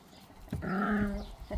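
A young black puppy with a white chest patch, in a kennel with other quarantined pups, gives a single close, low growl-whine lasting about a second over quiet background.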